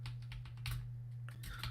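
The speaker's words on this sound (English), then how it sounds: "why doesn't my keyboard work?" Rapid key clicks on a computer keyboard patter in uneven bursts over a steady low hum, close but fairly quiet, with no one speaking.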